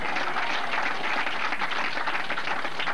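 A crowd at a bowling alley applauds during a televised bowling match at Princeton Bowl, with dense, steady clapping that holds at an even level for the whole stretch, close and continuous.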